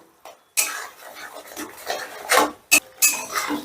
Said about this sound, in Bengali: গ্যাসের আঁচটা বাড়িয়ে দিয়ে মশলাটা আমি আবারও বেশ ভালো করে কষে নেবো